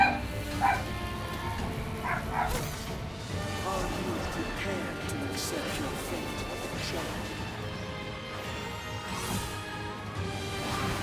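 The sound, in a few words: dog barking in the video game Bayonetta Origins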